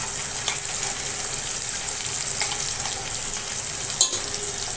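Coconut masala roasts in a pan with a continuous sizzle and frying hiss. Stirring scrapes run through it, and a sharper clatter comes near the end.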